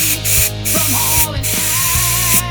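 Compressed air hisses continuously into a dirt bike carburetor to free a stuck float needle seat, a loud, steady blast lasting the whole stretch.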